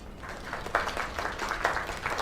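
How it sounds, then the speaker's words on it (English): Applause from an audience, a steady patter of clapping with a couple of louder bursts, fairly close and continuous. "Another round of applause."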